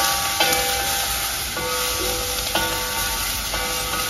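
Onions and garlic sizzle steadily in oil in a pan on fairly high heat, a continuous close frying hiss with a few light scraping clinks of stirring.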